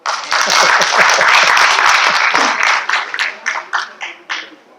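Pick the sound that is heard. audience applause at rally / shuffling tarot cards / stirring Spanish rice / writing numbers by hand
audience applause at rally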